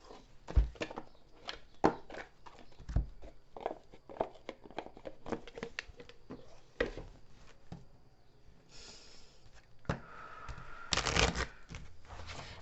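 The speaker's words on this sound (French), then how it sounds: "je vais vous tirer une petite carte de l'archange Michael" Archangel Michael oracle cards being shuffled by hand, a long run of quick papery riffles and taps close by, with a brief swishing slide near the end.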